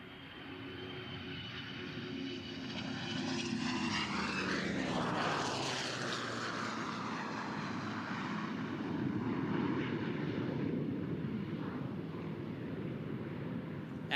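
Three warbird aircraft make a flat pass at a naval air station air show, the engine roar swelling as they approach from the left, peaking with a Doppler sweep overhead, then holding a broad steady rumble as they continue past.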